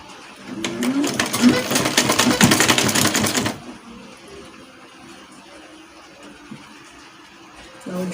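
A sewing machine runs a straight seam on a Caribbean-style balloon-sleeve dress, a close, loud, steady mechanical whir that lasts about three seconds and then stops, leaving quiet room sound and some light handling noise.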